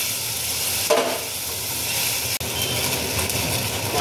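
Fried mushrooms sizzle in a hot pan with tomato sauce for chilli mushroom, a steady close hiss broken by a couple of sharp stirring scrapes and clacks.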